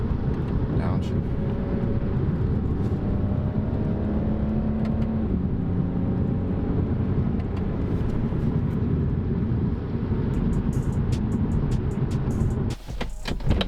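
A BMW with an N54 engine downshifts and pulls hard on a long, curvy, unlit road, its rising engine drone and shifts heard from inside the car, loud and continuous, ending in a brief burst of clatter.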